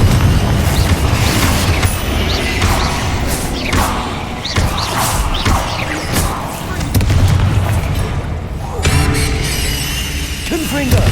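Confringo fire spell explosions in the Hogwarts Legacy video game: repeated loud booms and crashes in a busy battle, overlapping with thuds, squeals, shattering and shouted voices throughout.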